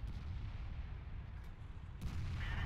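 Rapid distant gunfire and artillery-like booms in an online multiplayer shooter match, a dense, muffled, rumbling barrage that continues steadily throughout without talk.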